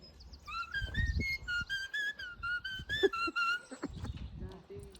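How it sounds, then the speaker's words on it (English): A shrill shepherd's whistle plays a quick run of rising and falling notes during sheep herding with a border collie, fairly close, over faint background rustling and breath noise. "if I start playing a tune on the whistle"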